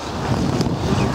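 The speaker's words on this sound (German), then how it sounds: "Hier geht relativ Wind." Outdoor wind near a road buffets the microphone, giving a brief, rumbling gusty roar with no speech.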